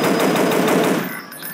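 Rapid automatic gunfire from a mobile Dinosaur Hunter game, a loud, steady burst of evenly spaced shots that cuts off after about a second, leaving a quieter tail.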